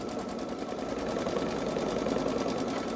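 A Babylock Solaris 3 sewing machine quilts a sweatshirt sleeve with rapid, steady mechanical stitching chatter, close and continuous.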